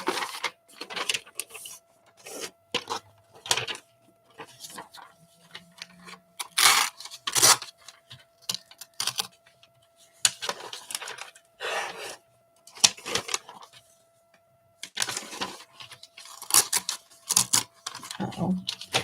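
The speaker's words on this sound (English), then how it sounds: "I don't want to tear them, so we're going to break out the scissors." Scissors snip through magazine paper in short, separated bursts of cutting and rustling, close up and fairly quiet, with gaps of silence between them and occasional talking.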